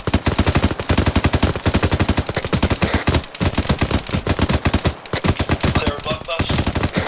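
Sustained automatic gunfire in a British-style military sim battle in ArmA 3, rapid bursts of loud, close shots rattling almost continuously with brief gaps, heavier reports near the end.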